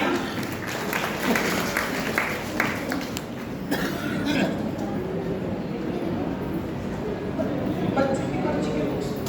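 An audience at a religious quiz gathering applauds, the clapping dense and roomy at first, then thinning into scattered claps amid murmuring voices.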